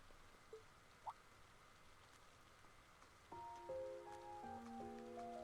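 Steady soft rain falling in a video game scene, a faint even hiss with a few small clicks, joined later by quiet melodic tones from the game.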